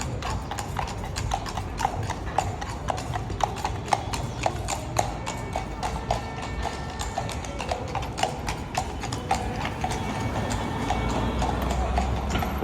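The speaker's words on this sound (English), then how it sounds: "The girls on the horse." Horse hooves clip-clop steadily on a Moscow street at 4:30 in the night, a regular run of sharp, close hoofbeats over low city rumble, with no talking.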